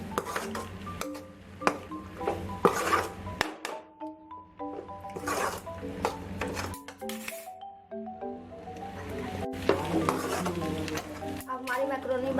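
A spoon stirs masala macaroni in a pan, with metallic clinks and knocks against the pan, scraping and soft squishy stirring in irregular bursts, close and moderately loud.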